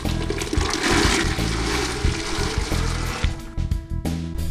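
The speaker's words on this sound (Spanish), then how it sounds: "Ahora lo vamos a echar a la agua que ya tenemos aquí bien caliente." Cleaned maize kernels for pozole tip into a pot of hot water, a loud continuous rushing splash that thins into trickles near the end, with no voices.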